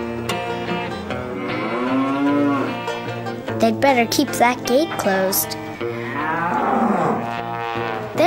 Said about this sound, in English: There are a lot of cows in this barn.